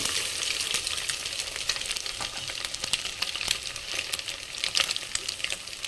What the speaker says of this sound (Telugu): బాగా మంచిగా ఫ్రై అయ్యేటట్టు చేసుకోవాలి.